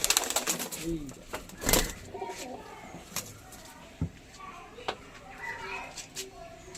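Tournament racing pigeons coo in a busy yard, soft repeated calls under frequent talk and scattered clatter, with a few sharper knocks and brief louder bursts.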